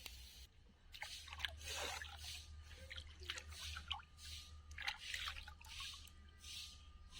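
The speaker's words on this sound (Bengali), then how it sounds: "মাছগুলো ভালো করে ধুয়ে নিয়েছি" Freshly cleaned and cut small river fish, such as puti and mourala, are washed by hand in water, making soft, irregular squishing and dripping splashes nearby with a faint low hum underneath.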